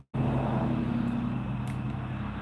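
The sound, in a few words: farm truck driving past on the road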